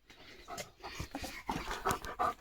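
Quick, breathy panting from a thirsty German Shepherd close by, with soft wet lapping of drinking water mixed in over a few seconds.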